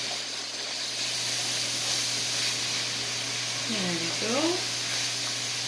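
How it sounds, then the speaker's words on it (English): Goulash fries in a pan on a home kitchen stove with a steady soft sizzle and hiss. A voice speaks briefly over it, and a short squeaky scrape from a stirring utensil cuts through near the end. "Let that fry up."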